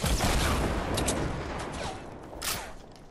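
Heavy video game gunfire, a constant rattling barrage of shots that stays loud throughout, easing slightly toward the end with a few sharper cracks standing out.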